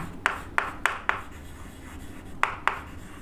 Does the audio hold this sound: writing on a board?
yes